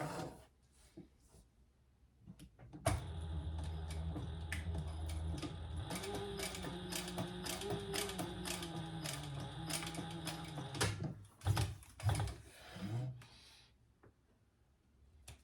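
A sewing machine runs steadily for about eight seconds, stitching a fabric fish pouch, with a buzzing mechanical whir, then stops, followed by a few clicks and handling knocks before quiet.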